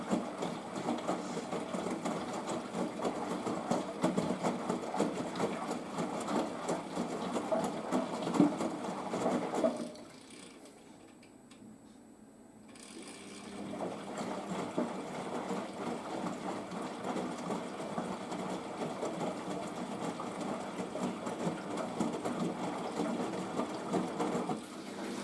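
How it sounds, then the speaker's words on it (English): A washing machine hums and whirs steadily through an intermediate spin at about 800 RPM. The drone dips quieter for a few seconds partway through, then resumes at the same level. "Second intermediate spin, I think this will be 800 RPM again."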